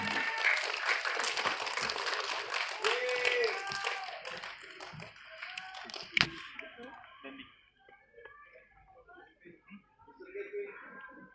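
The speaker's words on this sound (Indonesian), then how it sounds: "Kita berikan tepuk tangan yang luar biasa untuk Bapak Diraj Kalwani selaku produser." A room applauds a film producer at a press conference for the film Makmum 2. The clapping is fairly dense at first, with a voice over it, then thins into scattered claps and quieter talk.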